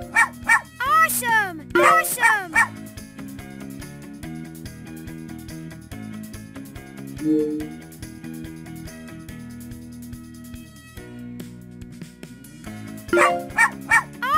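Cartoon puppies bark and yip in the PBS Kids game Woofsters, bursts of high barks at the start and end over bright game music, with a narrating voice talking between them.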